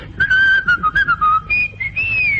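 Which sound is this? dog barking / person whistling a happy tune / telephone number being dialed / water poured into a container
person whistling a happy tune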